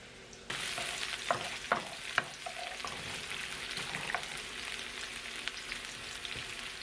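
Chicken fried rice frying in a pot, a sizzle that bursts in after a brief quiet moment, with a few clanking stirs early and a steady crackle after, moderately close.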